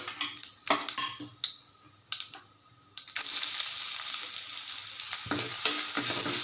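Onions dropped into hot oil with curry leaves already crackling, some sparse sharp pops and taps, then a loud continuous close sizzle that fills the rest.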